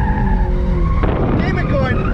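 A car on Pirelli tyres is thrown into a drift. A sustained engine drone is followed by a sudden loud skid and tyre squeal that starts about halfway through and carries on to the end.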